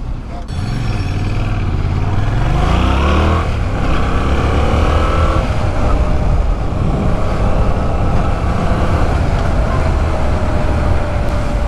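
A 2024 Yamaha MT-07 motorcycle engine rises in pitch as it revs and pulls away, then settles into a loud, steady ride with rumbling exhaust and wind under it.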